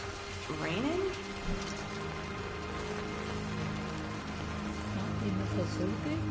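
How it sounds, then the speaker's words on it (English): Steady indoor rain hisses inside a facility in the horror video game Daymare: 1994 Sandcastle, a constant wash of patter under low mechanical hum, with a voice talking over it and occasional game tones. "Is it raining?"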